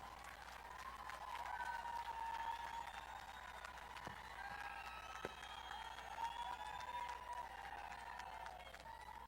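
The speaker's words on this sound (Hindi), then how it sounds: "एक बार जोरदार तालियों से माननीय मंत्री जी का स्वागत करें" Audience at a Haryana government event in Manesar applauds to welcome a cabinet minister, steady crowd clapping mixed with murmur, heard fairly distant and faint.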